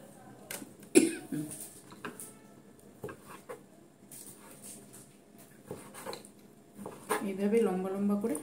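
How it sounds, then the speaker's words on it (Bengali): A woman coughs several times in a kitchen after grinding ginger and chilli while cooking a meat dish, the sharp coughs close and loud amid scattered utensil clatter, with speech-like murmuring and kitchen sounds in between. "এবার নিজেরই কাশি শুরু হয়ে গেছে।"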